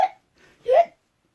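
A voice imitates an elephant's hiccup during a children's bedtime story, making two short, close vocal bursts, the second louder and rising, with silence between.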